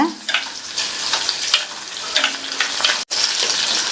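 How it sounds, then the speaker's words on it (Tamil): Green chillies fry in hot oil in a pan for a tomato dish, giving a steady, close sizzle with crackling bursts and a brief clatter of stirring, with no voices. "இந்த பச்சை மிளகாலாம் நல்லா எண்ணெயிலேயே வதங்கணும்."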